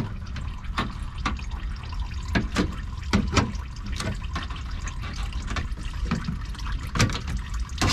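Engine oil drains from a 2012–2016 Scion tC, a steady liquid trickle and pour with scattered drips and faint clicks, close by, with no talking.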